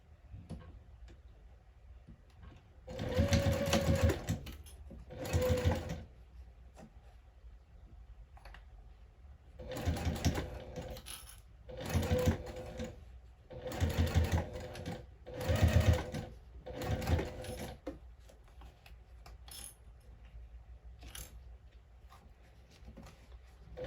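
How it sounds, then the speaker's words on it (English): A sewing machine runs a 3/8 inch seam on a bag in several short bursts of rapid stitching, separated by quiet pauses with faint clicks, close and moderately loud. "So we'll go ahead and sew that again at a 3/8 inch seam allowance."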